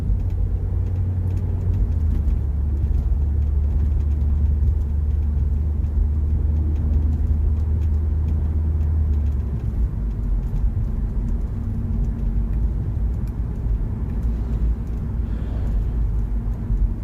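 A Volkswagen Beetle engine runs while driving in fourth gear with a slight stutter, giving a steady low droning rumble from inside the car throughout, with no talk.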